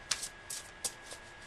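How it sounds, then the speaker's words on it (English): Tarot cards being shuffled by hand, a quick series of soft riffling bursts and light papery flutters, close and quiet with no talk. "Let's do the real nice, good shuffle."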